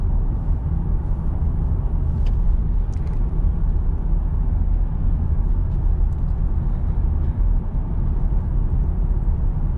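LS1 V8 Stato car driving, its engine a steady low rumble with road noise from inside the cabin, even and continuous with no voices.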